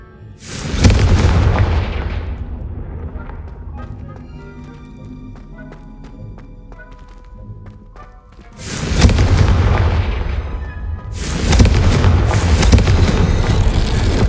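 A Confringo fire-blast spell in Hogwarts Legacy bursts in a loud, booming explosion, followed by quieter rumbling debris and then two more heavy blasts close by, with no talking.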